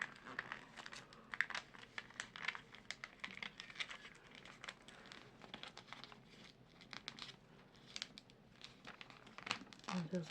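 A paper sewing pattern for a neckline is slashed and folded, producing soft, close crinkling and rustling in irregular bursts, with quiet talk underneath.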